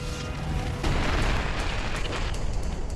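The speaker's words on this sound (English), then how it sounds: "A massive explosion rocks Forrestal." A massive explosion aboard the aircraft carrier Forrestal during a deck fire, heard as a dense, continuous roaring rumble that swells slightly and stays loud throughout, with no voices.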